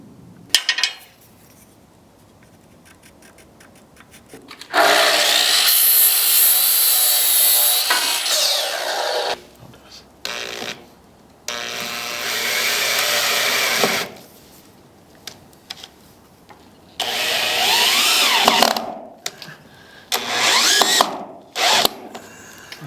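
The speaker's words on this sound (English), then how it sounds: "So we're going to cut some boards" Wooden boards cut for a workbench built from railroad ties, with loud sustained power-saw runs in several long bursts separated by short pauses and clunks of handling, no talk.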